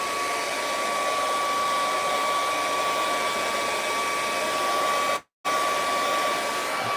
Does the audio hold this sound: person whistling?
no